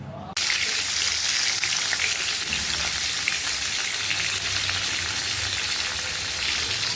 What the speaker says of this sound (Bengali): এবার আমি তুলে নিচ্ছি পটলটা, লাল লাল করে ভেজে নিয়েছি।